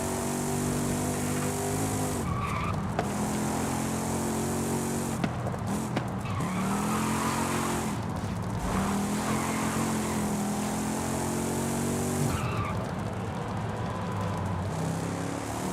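Revving car engine with squealing tire skids in the racing video game Forza Horizon 5, loud and continuous with repeated rising and falling engine pitch through gear shifts and drifts, no talk.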